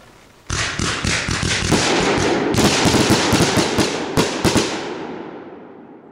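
A 16-shot firework rack going off in a backyard, a rapid string of sharp cracking bursts fired in quick succession, loud and close, with a few last pops before fading into quiet.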